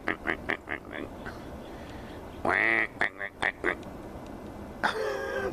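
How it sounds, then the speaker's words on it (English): Ducks quacking nearby outdoors, a string of short rapid quacks, then a longer loud raspy call and more clipped quacks, with someone talking in between. "Hey, you guys, are you tame ducks?"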